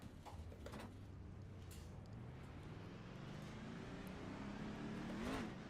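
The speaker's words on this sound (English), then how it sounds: "Is the noise on the cars too loud?" Race car engines at Talladega in the iRacing sim drone continuously, with a rising whine sweeping upward over the clip and growing slightly louder toward the end, steady and moderately loud.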